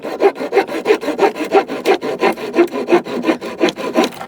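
A small hand saw cuts through wood in quick, steady back-and-forth strokes, about three per second, close and loud with no talking.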